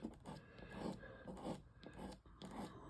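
A tool scrapes through paint on a painting to make the veins of a flower leaf, giving a few short, soft rasping strokes in close, quiet succession.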